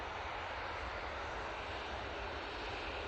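Airliner on a positioning flight from Glasgow coming in to land at Manchester Airport, a steady broadband jet roar heard from a distance with no voices.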